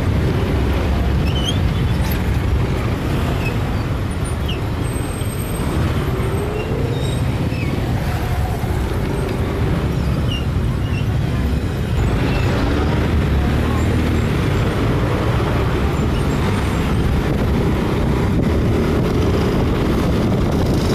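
Heavy weekday road traffic heading to Masinag gives a continuous loud rumble of buses and cars with occasional air-brake hisses over about twenty seconds, while a voice talks underneath.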